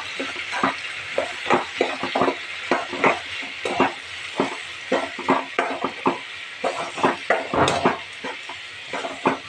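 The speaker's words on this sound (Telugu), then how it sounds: "బాగా వేగనివ్వాలి." Potato curry with chili powder frying in a pan, a continuous loud sizzle punctuated by rhythmic scraping and clanking of a spoon stirring against the pan, with no speech.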